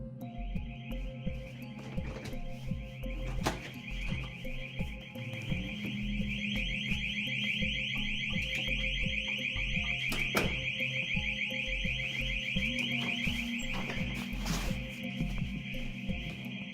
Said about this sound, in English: a hotel where a fire alarm goes off